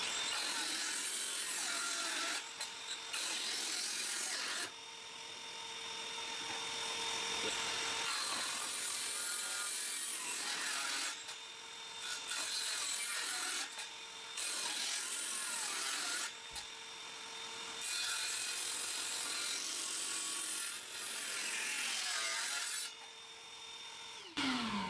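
Hand saw cutting through wood, a steady rasping stroke rhythm that continues close and loud for the whole stretch, with brief pauses between bursts of sawing and no voices.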